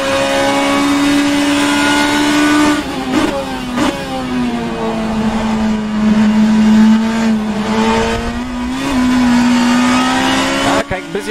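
A BMW M3 E92 GTE racing at Oschersleben in the rFactor 2 sim, its engine holding a loud, steady high note with shifts and brief dips, running continuously under intermittent talk.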